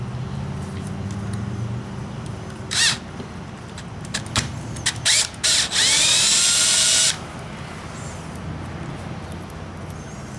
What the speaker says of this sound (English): Go ahead and start our screw, but not all the way in.